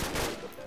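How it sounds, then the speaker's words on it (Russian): Gunfire in a Minecraft zombie apocalypse game, a short burst of shots that sounds muffled and mid-distance over steady game ambience. "Воу, кто, где стреляют?"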